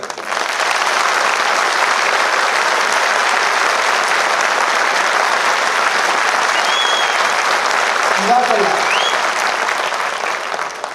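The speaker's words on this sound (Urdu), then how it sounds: "اور یہ کلیپنگ اتنی زوردار ہونی چاہیے جو باہر سڑک تک اس کی آواز آئے" A large audience at the Rehmani Welfare Trust annual program in Rawalpindi claps loudly and steadily as one dense roar for about eleven seconds, with a brief spoken thanks near the end.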